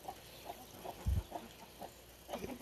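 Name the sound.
chickens clucking in the Peru Amazon rainforest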